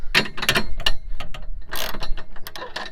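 A ratchet wrench clicks in quick bursts while tightening tow bar bolts on a Jaguar XF, sharp close mechanical ratcheting strokes with short pauses between.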